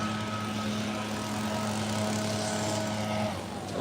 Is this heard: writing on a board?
no